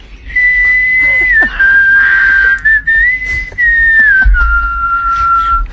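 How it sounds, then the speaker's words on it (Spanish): A long, wavering whistle from a whistling owl perched on the top branch of a willow, held almost continuously with small dips and slides in pitch, clear and close over a low background rumble. "La lechuza que silba. Escuchemos su silbido."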